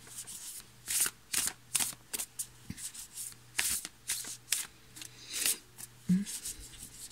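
A deck of Angels and Ancestors oracle cards being shuffled by hand in repeated riffling bursts, close and crisp, with brief gaps between each pass and no talk over it.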